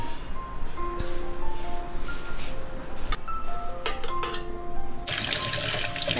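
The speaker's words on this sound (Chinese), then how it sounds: "市场买回来豆腐，给它冲洗一下。" Tap water runs steadily into a kitchen sink as fresh market tofu is rinsed under it, with a few soft clinks nearby and the flow growing louder near the end.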